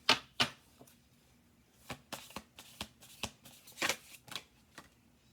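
Oracle cards being shuffled up close: two sharp snaps, a brief pause, then a flurry of papery riffles in an uneven rhythm, with no talking.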